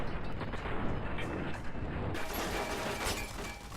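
Mark 5 turret gunfire in the video game Fallout New Vegas comes as dense rapid bursts of shots and crackling impacts. It is loud and continuous throughout the clip, with no voices.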